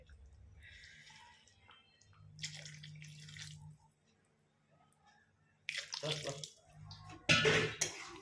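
More water is added to Bihari-style chicken curry in a pan, heard as several separate close bursts of pouring and splashing with quiet gaps between them.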